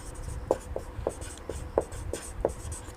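Pen or chalk strokes on a board or paper during a physics lesson, a quick series of sharp taps and short scratches in an irregular rhythm, close and fairly quiet.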